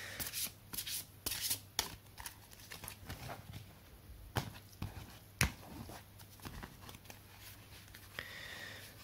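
Tarot cards are shuffled and drawn by hand: a quiet, close sequence of soft riffling bursts, slaps and sliding card rubs with irregular pauses, and no voice.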